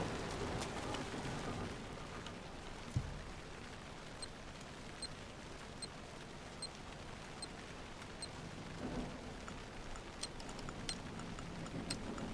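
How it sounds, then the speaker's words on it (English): Steady night rain patters on leaves in a video game scene, a soft continuous hiss broken by occasional louder drops and faint distant rumbles, with no voices. "Night, rain, pitter-pattering on the leaves."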